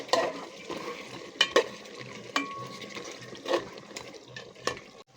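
Chicken meat and potatoes being stirred in a cooking pot for chicken khichuri bhuna, with a spoon scraping and clattering several times against the pot over a soft background sizzle of oil, no talking.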